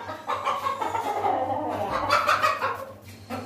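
Chickens cluck close by in a short, busy run of throaty calls, with no talking.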